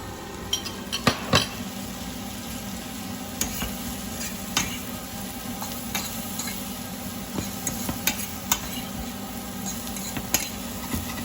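Mushrooms frying with garlic in butter, a continuous close sizzle broken by regular taps and scrapes of a utensil stirring in the pan.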